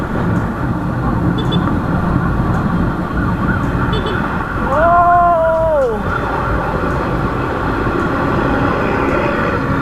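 An MRT train rumbles past a station with a steady roar, and a rising-then-falling horn or tone sounds briefly midway.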